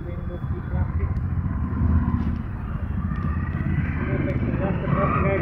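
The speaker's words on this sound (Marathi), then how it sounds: "जास्त ट्रॅफिक आहे बेंगलोरला." Dense city road traffic in Bangalore, a steady low rumble of car and motorcycle engines passing close by throughout, with some faint voices mixed into the constant roar.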